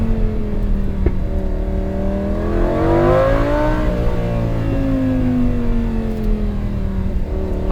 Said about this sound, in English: You can lower the window, and then I can hear the engine a lot better.